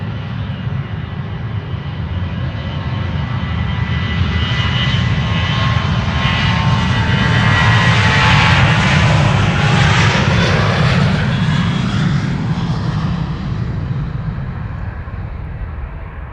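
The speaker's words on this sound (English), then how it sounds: "That is a 777 to Houston, by the looks of it. The Dreamliner to LAX is also approaching." Boeing 777 and 787 Dreamliner jets at Amsterdam Schiphol Airport, with a loud, steady engine roar that swells toward the middle and slowly fades, a continuous rumble with a rising whine.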